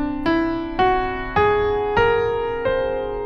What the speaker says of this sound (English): Whole steps sound like this.